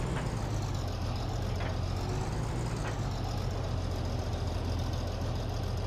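A combine harvester engine idles in Farming Simulator 22, a steady, unbroken low rumble with a faint mechanical hiss layered over it. It is heard alone with no voices.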